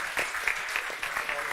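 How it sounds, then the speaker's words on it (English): Brief burst of audience clapping at an online startup accelerator demo day, moderate and steady, a little thin and distant. "Big applause."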